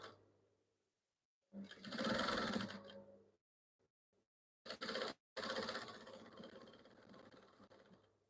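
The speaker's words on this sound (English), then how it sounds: "I am stitching" A sewing machine stitches a gown, running in short close bursts of rapid whirring separated by brief silences, the last run longer and fading out.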